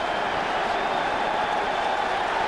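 Stadium crowd at Veterans Stadium during an NFL game, Buccaneers at Eagles in 2002, a broad, even roar of many voices heard from a distance and sustained without breaks.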